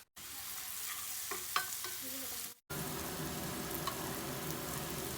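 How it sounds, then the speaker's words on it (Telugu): Finely chopped onions and green chillies fry in a pan with salt and turmeric for a cauliflower potato kurma, a soft, steady sizzle with light stirring clicks, briefly cut off by a short gap. "ఇప్పుడు సన్నగా తరిగిన ఆనియన్స్, అలాగే గ్రీన్ చిల్లీ కూడా వేసేసి వేగిద్దాం."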